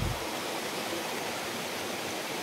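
Rain falling near a stream or river makes a steady, dense hiss of rushing water, constant and fairly close with no voices.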